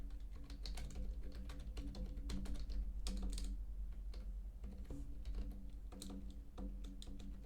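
Two podcast hosts typing on computer keyboards, a dense, continuous patter of close key clicks lasting several seconds over a steady low hum, with no talking.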